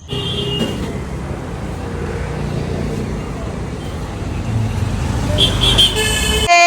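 A four-wheeled car pulls up outside a house before a child's first birthday gathering, its engine rumbling steadily as the horn toots briefly at the start and again near the end.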